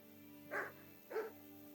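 A dog in the video game Kingdom Come Deliverance gives two distinct barks about half a second apart, moderately near, over a quiet low-humming background with no talk.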